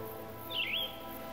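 A single brief, rising bird call cuts through a quiet village setting where marabou storks nest in tall, slender trees, sounding clear but moderately faint over a soft steady background hum.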